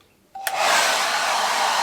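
A click, then a hair dryer on its coolest, slowest setting, powered by a solar generator in a caravan, whirs on and keeps blowing at a steady, fairly soft level.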